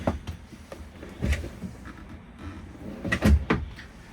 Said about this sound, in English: And then you have drawers.